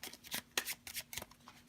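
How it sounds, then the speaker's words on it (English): A deck of playing cards given an overhand shuffle, several quick riffling bursts of cards slapping and sliding in an uneven rhythm, close by and alone. "then I'll give it an overhand shuffle"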